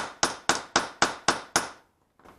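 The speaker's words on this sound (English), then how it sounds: "What happens when you're hitting it with the hammer, it just springs it, and the vibrations kind of bring it out there." Six sharp, evenly spaced hammer blows on a PT Cruiser front wheel bearing during removal, each a crisp metallic knock that decays quickly, followed by a pause and a faint final tap.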